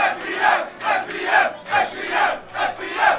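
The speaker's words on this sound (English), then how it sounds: "And the crowd is alive." Crowd at a Super Smash Bros tournament roaring and chanting after a game 5, loud rhythmic bursts of cheering rising and falling in repeated waves.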